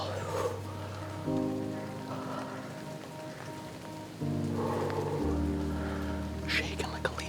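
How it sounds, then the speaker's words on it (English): Rain patters steadily on leaves in Florida woods during a deer hunt, a soft constant wash of drops close around, with low tonal hums and a quiet voice faintly underneath. "Wait, oh, here comes the rain."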